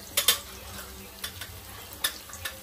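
Onions and spices fry in a pan, a low steady sizzle under several sharp clinks of a spoon against the metal as they are stirred, close and moderately quiet.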